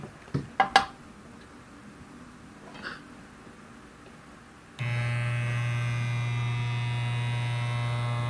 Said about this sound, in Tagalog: There's a humming noise.